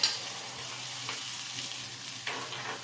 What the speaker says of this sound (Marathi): दह्यातच मिरच्या दमू द्यायच्या आहेत आपल्याला